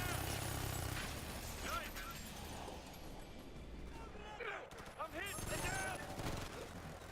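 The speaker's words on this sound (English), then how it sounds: "So some really heavy fire with some automated turrets here" Heavy automated turret gunfire from a Ghost Recon Future Soldier mission, with dense bursts of shots and impacts rattling continuously over a busy game mix while a voice talks over the action.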